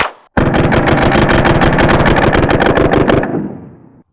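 A Taurus TX22 .22 rifle with a forced reset trigger fires Aguila subsonic rounds in a loud, rapid string of roughly two dozen sharp shots with no pauses between them, then a short fading tail.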